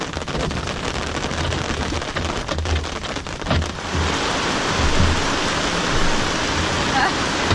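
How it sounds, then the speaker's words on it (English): Steady heavy rain pours down on a sailboat at sea in a dense, broadband hiss that grows fuller midway, with occasional low thumps and faint sounds of movement nearby. "Ah, here comes the rain."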